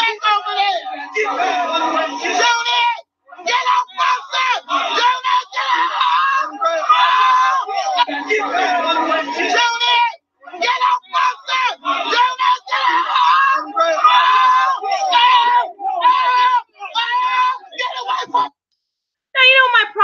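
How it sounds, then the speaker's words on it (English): A person in a played-back home video screams and hollers almost without pause, with other voices and chatter mixed in, loud and close, broken by a few short gaps. "my problem with this video is the person screaming and hollering like an idiot"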